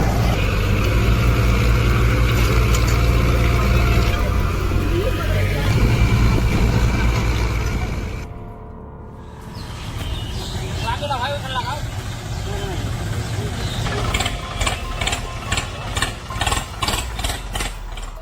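A tractor engine runs steadily while climbing a slope on a narrow, risky stretch to reach an overturned tractor, a loud low drone that dips briefly and returns with rhythmic chugging, with voices talking over it.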